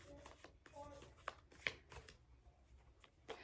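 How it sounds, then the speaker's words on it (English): Round tarot cards being shuffled close by, soft irregular riffling and sliding with small taps and flicks, quiet and continuous with faint background voice. "I'm like having to shuffle them down here to kind of, because they just want to go everywhere."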